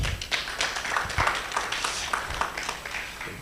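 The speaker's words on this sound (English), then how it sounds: "Can you give Professor Gore a better clap." An audience applauds Professor Gore at a Kenyan-German higher education event, a dense, steady patter of many hands clapping at moderate volume for several seconds.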